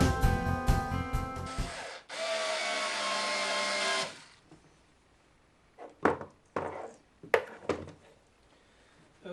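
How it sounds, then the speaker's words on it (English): Screws driven into a wooden diorama by a power driver: a buzzing burst, then a longer steady whir, followed by quieter scattered clicks and knocks of handling. "I'm going to add the screws now"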